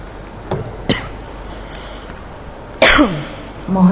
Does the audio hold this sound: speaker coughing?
yes